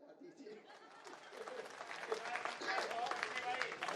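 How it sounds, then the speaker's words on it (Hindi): An audience claps at a Hindi kavi sammelan poetry recital, applause swelling from scattered claps into dense, fairly distant clapping with some crowd chatter mixed in. "लेकिन ताली आपने बराबर बजाई"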